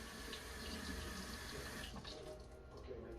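Running water from a faucet rinsing bullets in a sink after cleaning with Bar Keepers Friend, a steady close splashing stream that thins slightly near the end.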